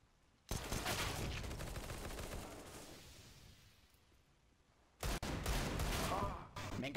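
Rapid gunfire from the CS:GO shooter game, loud bursts of shots from about half a second that fade, then break off and return in another loud burst near the end, with some talk mixed in.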